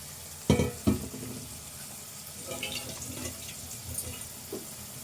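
Goat tripe for Telangana boti curry is stirred in a wet pot, with two loud sloshing scrapes at first and then softer, quieter stirring and splashing close by.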